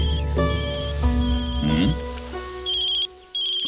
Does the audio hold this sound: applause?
no